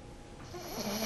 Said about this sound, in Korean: 보통 때는 애 아빠 고는 코 고는 소리랑 비슷할 때도 있고요